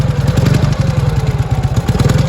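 An MT motorcycle with a sidecar, just reassembled, starts and runs with a loud, close, rapid rhythmic thumping of its engine that stays steady throughout, with no voices.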